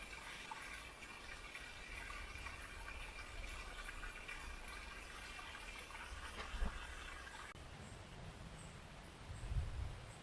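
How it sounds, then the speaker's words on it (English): Steady trickle of water from a small spring beside a hiking trail, a constant faint rushing wash with a slight change partway through and a couple of soft bumps near the end, no speech. "Got a nice little spring here."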